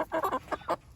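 Chickens on a homestead, nine-week-old meat birds grown large, clucking in a quick run of short, close, fairly loud bursts with no talk.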